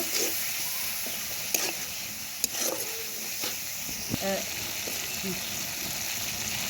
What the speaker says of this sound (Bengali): এই জিরা গুঁড়া আর এই যে সামান্য গরম মশলার গুঁড়া দিয়ে এটা ভালো করে আবার কিছুক্ষণ নাড়াচাড়া করে